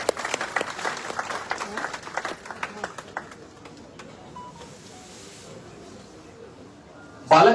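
Audience at a university gathering applauding Dwivedi ji, a burst of dense hand clapping that thins and fades over several seconds, followed by a quiet murmuring room and a sudden loud noise at the very end.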